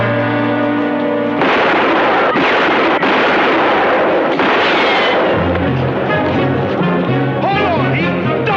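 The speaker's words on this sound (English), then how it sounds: "or do I start shooting?" Gunfire in a TV western: a loud, heavy burst of shots and blasts, followed by music and voices.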